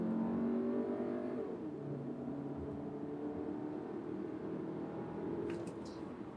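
A 2024 Volkswagen Tiguan R-Line accelerates hard from a launch, its engine note a steady, loud mid-pitched drone that rises and holds throughout, recorded from inside the car with no talking.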